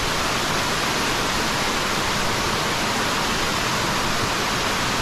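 Strong water current rushing at Gabur Gabur Falls, a dense, steady broadband roar that fills the whole stretch without pause, loud and close.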